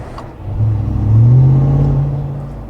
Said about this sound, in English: You do hear the supercharger, which is very nice, and you can basically like kind of hear the motor